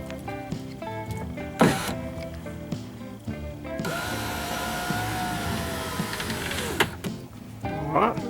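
A Ford power window motor whirs steadily for about three seconds as it raises the car door glass, with a falling pitch as it reaches the top, surrounded by clunks and handling knocks nearby.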